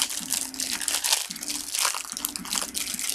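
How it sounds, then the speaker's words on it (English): Mott's individually packaged apple slices being eaten, with plastic wrapper crinkling and crisp crunches close by, layered over faint background noise from an MLB 15 The Show baseball game. "You hear the noise and the crinkling in the background. I'm eating apple slices. Mott's individual packaged apple slices."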